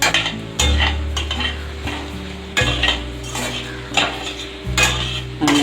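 Spicy egg pasta with Maggi masala and scrambled egg being stirred in a pan, a utensil scraping and clinking against the metal in repeated strokes over a steady low sizzle, close and fairly loud, with no talking.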